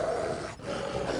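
A wolf growling in the video game Assassin's Creed 3, a continuous low rough snarl with a brief dip midway, steady and close, with no talk.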